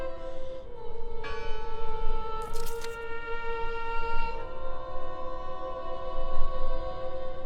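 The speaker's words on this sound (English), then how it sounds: "Listen! The bell! They're still in there!" A church bell tolls with long sustained harmonic ringing over a low rumbling ambience in the video game Draugen, its tones overlapping and swelling, with a brief bright metallic strike partway through.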